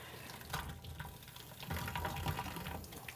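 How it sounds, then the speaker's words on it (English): Warm water runs from a tap as a foam polishing pad is cleaned in a sink, giving a steady splashing flow with swells as the pad is worked under the stream, close and continuous, no talking. "then we'll get the warm water running again"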